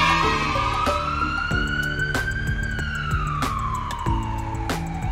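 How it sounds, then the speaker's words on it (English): A cartoon ambulance siren wails in a steady rising-and-falling sweep, loud and close over bright, bouncy children's music with sharp percussive hits. "An ambulance quickly hit the road."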